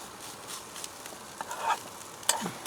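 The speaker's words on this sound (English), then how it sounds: "Fry that off for a little bit, get the flavours in there" Minced beef with seasoning fries in a pan, a soft continuous sizzle under scattered scraping stirs and light clinks of a utensil, with no talk.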